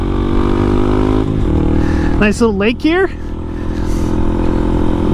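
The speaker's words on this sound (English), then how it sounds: "all you can hear is like the engine revving up" A Honda Grom motorcycle with its stock exhaust pipe, its engine droning steadily and loudly up close while someone speaks over it briefly.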